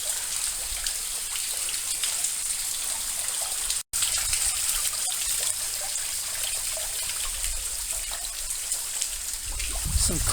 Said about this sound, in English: I'm hearing the sound of water